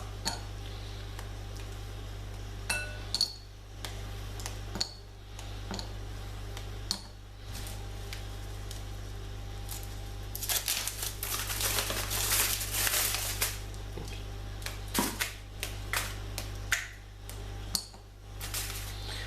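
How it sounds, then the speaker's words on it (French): Chocolate bars snap into small squares dropped into a glass bowl, giving sharp intermittent clicks and clinks with a crinkle of wrapper partway through, over a steady low hum. "casser le chocolat dans un plat, dans un saladier, en petits carrés comme ça"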